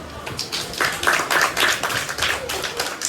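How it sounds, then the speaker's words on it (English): A classroom group claps in a steady burst of quick, fairly loud hand claps lasting about three seconds, with a faint murmur of voices underneath. "Clap."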